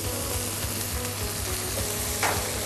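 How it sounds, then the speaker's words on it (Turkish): Beef and vegetables for a noodle stir-fry sizzle steadily in a hot pan as soy sauce goes in, a dense continuous frying hiss with a brief louder spit near the end, close and alone without talk. "Soya sosumuzu ilave yapıyoruz."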